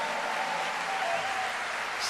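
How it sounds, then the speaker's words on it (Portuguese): An audience at a talk on the Jewish roots of Christianity claps in a steady, even burst of applause that runs throughout without pause. "Vamos recebê-la com uma salva de palmas?"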